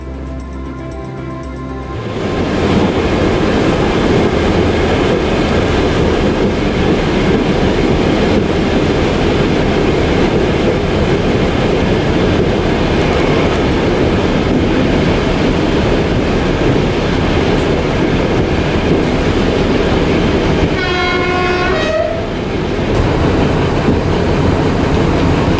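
An Uerdinger rail bus running on the Krebsbachtalbahn branch line in Germany, heard from inside as a loud, continuous rolling rumble with a brief high squeal about two thirds of the way through.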